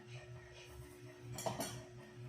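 A utensil clinks and scrapes against a bowl while macaroni chicken salad is stirred, giving a few soft, close knocks over a low background hum.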